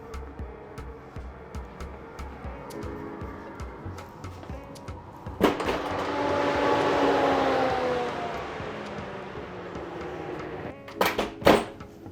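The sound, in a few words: orange cake being put into the oven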